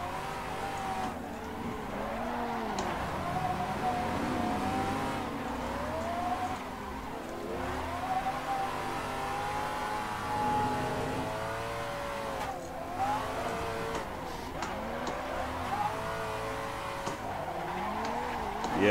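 Cars drifting through the Ebisu touge course in the Assetto Corsa racing game, engines revving and wavering continuously while tires squeal in repeated bursts as the cars slide through corners, sometimes clipping the grass.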